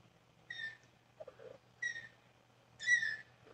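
Tiny kittens at a vet visit give three short, high squawky mews spaced about a second apart, quiet and close against a faint steady hum, with a soft low murmur between the first two.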